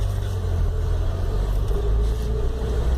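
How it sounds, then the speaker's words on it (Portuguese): A Chevrolet Chevette engine, freshly reassembled and rewired, idles with a steady low rumble, close and continuous with no speech. "o chevetão tá funcionando"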